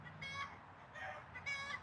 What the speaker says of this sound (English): And there are the chickies.